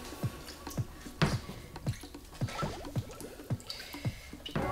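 Laundry is washed by hand with a potato masher in a tub of water, giving repeated wet squishing plunges and drips at a steady pumping rhythm, close up, with no talking.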